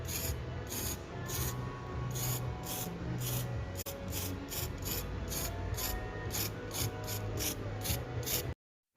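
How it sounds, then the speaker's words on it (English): Rapid bursts of aerosol spray hiss as copper primer is sprayed from a can onto rust-repair panels for a Nissan GQ Patrol roof, short repeated sprays in a steady rhythm, close by, ending abruptly in silence. "Now you spray them with copper primer."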